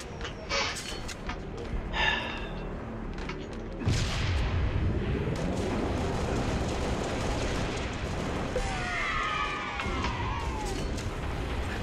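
Chaotic Halo: Reach multiplayer combat with bursts of gunfire and booming explosions, dense and loud throughout, with a few brief vocal sounds mixed in.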